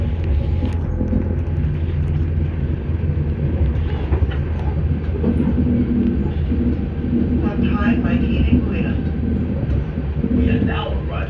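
Steady interior rumble of an Auckland Transport AM class electric train running between Waitematā and Ōtāhuhu, a continuous loud low drone with faint rattles, and a voice speaking over it partway through.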